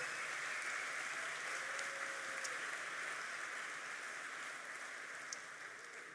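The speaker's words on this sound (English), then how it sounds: "Can I have a massive round of applause, please, for our Flying Kiwis, our innovators" An audience applauding innovators at the 2023 NZ Hi-Tech Awards ceremony, a faint, steady wash of many hands clapping from a distance, sustained without a break and with no speech.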